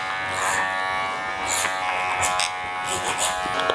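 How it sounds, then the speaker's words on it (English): Electric hair clippers cutting hair with the clipper-over-comb technique: a steady, close mechanical buzz with a continuous tonal whine, broken by short bright rasping bursts as the blades pass through hair. "I'm gonna finish off with a little bit of clipper over comb, just to create that bit higher and tighter look"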